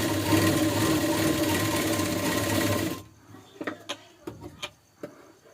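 A sewing machine runs steadily while stitching a blouse, a close, continuous whir for about three seconds. It then stops, followed by a few soft clicks and taps from the machine.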